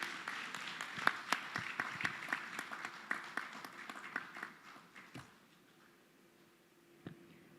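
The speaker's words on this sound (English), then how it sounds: "applause also not only for the panel, but for Ram would be entirely appropriate" Conference audience applauds a plenary panel in a hall, a brisk scattered clapping from a modest crowd that thins and fades after several seconds, with a last lone clap near the end.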